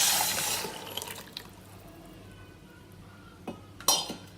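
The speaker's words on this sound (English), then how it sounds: "transfer all of that dal and pineapple juice that I had extracted. I'm going to transfer that into that" Dal and pineapple juice pour into a cooking pot for pineapple rasam, a watery splash strongest at the start that fades into a quiet trickle, with a couple of clinks from a utensil near the end.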